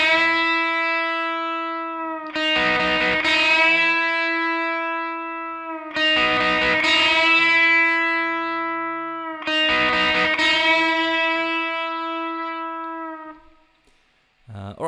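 Distorted electric guitar plays the short third lead line from a song, three sustained phrases of ringing overdriven notes with brief pauses between them, loud and alone.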